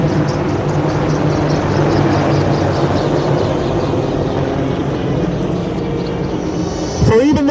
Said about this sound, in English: it will be much worse than the sounds of these helicopters and jets